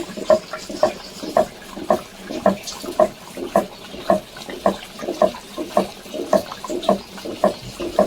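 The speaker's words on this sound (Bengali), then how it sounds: "এদিকে এক হাঁড়ি ভাত ফুটছে" A pot of rice boiling on a home stove, with steady rhythmic bubbling and plopping that repeats about twice a second, close and moderately loud, with no voices.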